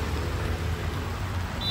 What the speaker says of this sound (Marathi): बारिश आ गई भाई.